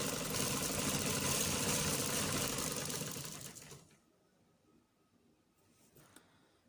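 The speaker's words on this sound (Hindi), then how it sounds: "स्टिचिंग के आगाज में सिलाई को पक्का कीजिए और एंड में भी लाजमी पक्का किया करें" A sewing machine runs steadily while stitching a jumpsuit, a loud continuous mechanical whir for about four seconds that then stops, leaving near silence with a faint click.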